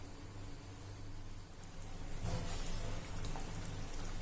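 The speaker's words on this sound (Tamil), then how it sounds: "குழம்பு நல்லா கொதிக்குது." Egg curry (kulambu) at a rolling boil in a pot, a steady close bubbling hiss that grows fuller partway through, with no talking.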